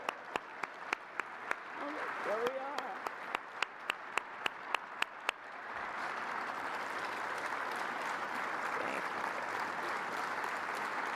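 An audience applauds Space Force Guardians, opening with a few sharp, isolated claps that swell after a few seconds into sustained, steady applause from a large crowd, with a brief spoken remark early on.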